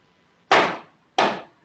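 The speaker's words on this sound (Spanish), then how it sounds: "¿Quién está martillando?" Two sharp, loud hammer blows land about half a second apart nearby, each ringing briefly before fading into a quiet room.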